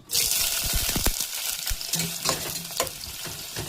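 Onion and chilli hit hot oil tempered with bay leaf and garam masala, giving a loud, close, steady sizzle with stirring scrapes and clacks throughout.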